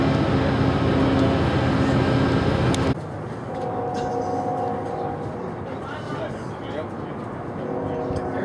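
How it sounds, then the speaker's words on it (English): A loud rumbling freight train roars past in Kansas City, then cuts abruptly to a quieter, more distant rolling clatter with faint squeals and background voices. "Freight train."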